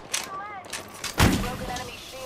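Gunfire in the game Apex Legends, a few sharp shots with one heavy blast in the middle, mixed with a voice talking.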